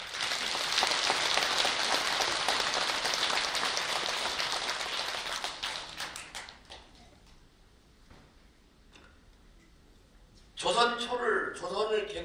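Applause from the audience at a Buddhist temple dharma talk, a dense wash of clapping for about six seconds that fades out, followed by someone speaking.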